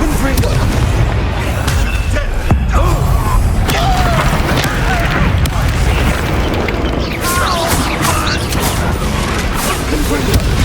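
Confringo blasting spells burst in Hogwarts Legacy with loud, booming explosions over a constant roar of combat effects, several sharp impacts crashing in quick succession.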